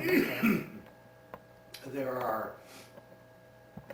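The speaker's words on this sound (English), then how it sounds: "sorry about my cough." A throaty cough or throat clearing sounds at the start, followed by another rougher clearing a moment later, close and fairly quiet.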